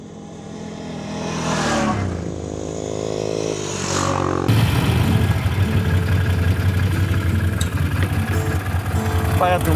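A motorcycle engine idles close by with a rough, throbbing rumble, rising in revs partway through, while voices talk over it.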